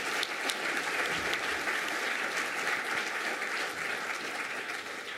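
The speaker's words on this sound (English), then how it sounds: "I think they deserve applause" Audience applause at the closing of a meeting in China, a steady dense wash of clapping that holds throughout at even strength, with no voices over it.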